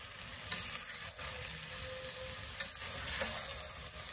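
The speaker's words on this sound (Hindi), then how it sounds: "भात ॲड करताना चमचा असाच वापरा, आपला चपातीचा असतो ना उलटणं, तेच वापरा आणि असं हळूहळू मिक्सिंग करत राहा" Cooked rice for a carrot and green peas veg pulao being slowly mixed with a flat spatula in a hot pan, a steady soft sizzle broken by a few scraping knocks of the spatula, close and alone with no talk.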